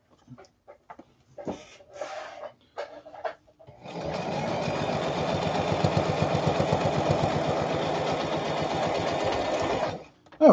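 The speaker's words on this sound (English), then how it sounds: "now I will sew the hem on the other side." A sewing machine stitches the hem of technician coveralls, starting after a few brief handling clicks and then running steadily for about six seconds as a loud, continuous rhythmic whir before stopping.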